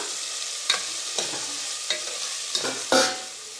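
A spoon stirring ginger-garlic paste masala in a pan for a potato and green pea kurma, giving soft repeated scrapes and a few sharper taps over a steady low sizzle, close by with no talk.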